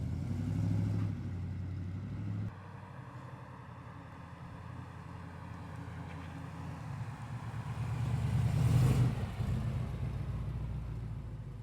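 A 1979 GMC Caballero drives along with a steady low engine rumble, swelling louder toward the end as it passes close, then settling back; no one speaks.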